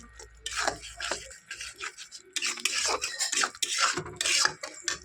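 Spoon stirring yogurt and spices in a cooking pot for a yogurt-based fish curry, giving close rasping scrapes and rubbing strokes in uneven bursts, with no talking.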